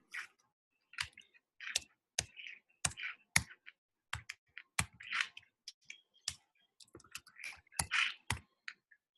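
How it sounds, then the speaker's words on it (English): Rapid clicking keystrokes on a computer keyboard as a name is typed into a search field, irregular bursts of close, crisp taps with short pauses between. "So if I type in, for example, Dennis O'Brien."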